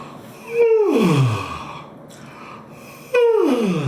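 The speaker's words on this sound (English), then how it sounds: "Just letting your voice yawn and stretching the muscles inside your vocal cords" A voice makes two long yawning sighs as a vocal warm-up, each starting high and sliding down in pitch, separated by a short quiet pause.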